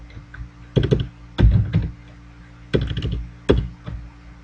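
Code being typed on a computer keyboard while writing a C# application in Visual Studio, heard as several quick bursts of clattering key presses separated by short pauses, close and fairly loud.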